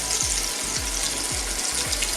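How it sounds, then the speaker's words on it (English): Flour-dusted chicken pieces deep-frying in hot oil give a loud, dense, continuous sizzle, with soft rhythmic low thumps recurring about every half second, close by. "and then it's off to the hot oil."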